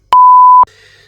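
A mobile phone gives one loud, clear electronic beep lasting about half a second, followed by faint lingering tones, indoors with no voices.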